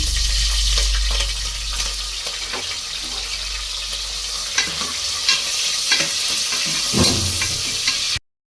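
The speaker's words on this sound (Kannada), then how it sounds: "ಎಸ್, ಈಗ ಚಿಲ್ಲಿ ಹಾಕ್ತಾಯಿದ್ದೀನಿ, ಹಸಿಮೆಣಸಿನ್ಕಾಯಿ" Green chillies tossed into whole spices — cloves, cardamom, cinnamon and peppercorns — frying in a pot for mutton biryani, with a continuous loud sizzle and repeated scraping stirs of the spoon.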